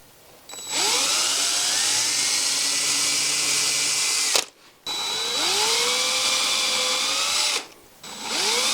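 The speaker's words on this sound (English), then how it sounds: "I think I might even just pilot a little hole right there with a drill" A power drill drilling a small pilot hole whirs at high speed in two long runs with a brief pause between, its pitch rising as the motor spins up, loud and close.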